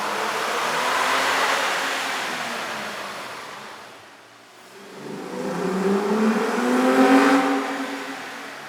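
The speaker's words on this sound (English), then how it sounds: "we ran the vehicle on the dyno to test the sound comparison versus the stock intake" A Toyota Tacoma 4.0L V6 fitted with a K&N air intake revs on a dyno in two long swells, the engine note climbing, easing off, then building again louder, close and without talk.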